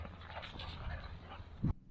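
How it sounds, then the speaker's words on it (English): Two pet dogs pant quickly and rhythmically close by, with faint whimpers mixed in and a brief thump near the end. "These are our dogs."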